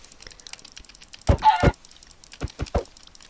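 Chicken clucking in Minecraft, two loud close bursts followed by three quick short clucks against faint background game noise.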